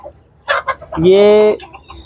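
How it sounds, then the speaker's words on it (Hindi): A frizzle and aseel mixed-breed chicken gives a short, loud, drawn-out harmonic cluck up close, with brief voice-like calls and soft background noise around it. "फ्रिजल और असील ब्रीड का मिक्सिंग है ये"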